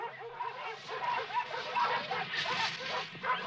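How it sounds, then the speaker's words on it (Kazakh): Cartoon sled dogs bark and yip in a quick run of short calls that come closer, with some whimpering mixed in, over faint background sound. "Жегілетін иттер ғой"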